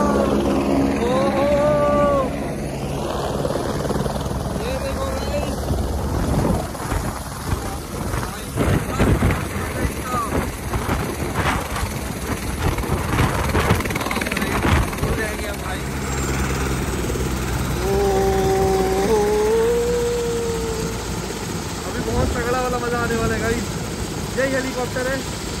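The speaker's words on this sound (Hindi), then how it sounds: "आ गया हेलीकॉप्टर" A private helicopter arriving in Dubai, its engine and rotor drone steady and fairly loud throughout, with people talking excitedly over it.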